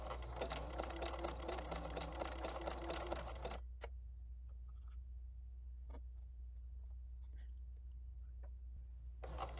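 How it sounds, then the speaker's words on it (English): A sewing machine runs a zigzag stitch over dental floss to form a gathering casing, a fast, even mechanical whir for about three and a half seconds, then stops, leaving a low hum with faint clicks. "and stitch using the zigzag stitch. The zigzag should go on either side of the floss."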